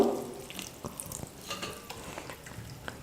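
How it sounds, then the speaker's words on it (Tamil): Cold tap water poured over cooked vermicelli noodles in a strainer to drain them, splashing steadily and fairly faintly, with light clinks and stirring sounds. "மேலே வந்து பச்சை தண்ணியை நான் சேர்த்து வடிகட்டிக்கிறேன்"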